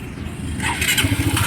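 A faulty vehicle engine cranks and catches, a brief scraping whir rising into rough, pulsing combustion within about a second, close and fairly loud.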